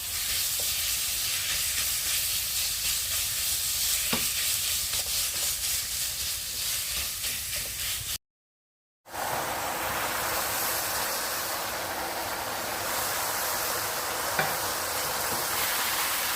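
Seasoned minced meat and garlic stir-fried in an oiled pan, a steady loud sizzle and hiss with scraping stirs, briefly cut off midway before the frying resumes even louder.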